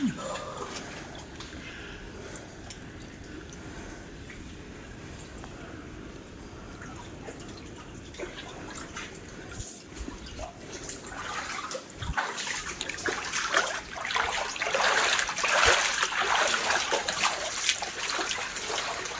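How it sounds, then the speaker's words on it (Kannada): Water drips and trickles steadily from above inside a cave Shiva temple, a constant wet patter in a reverberant space that grows denser and louder toward the end. "ಮೇಲ್ಕಡೆಯಿಂದ ಎಲ್ಲ ಕಡೆ ತೋಟವಾಗಿ ನೀರು ಬೀಳ್ತಾ ಉಂಟು"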